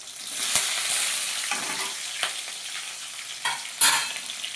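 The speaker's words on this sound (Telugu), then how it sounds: "ఫస్ట్ ఆయిల్ మరిగాక ఇలాగా పచ్చిమిర్చి వేసుకోవాలి." Green chillies sizzle in hot oil in a kadai, a steady close frying crackle with a few sharper pops and stirring scrapes.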